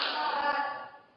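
A group performs the 'tepuk semangat' clap chant during a teacher-training session, producing a short burst of sharp, loud clapping that quickly fades.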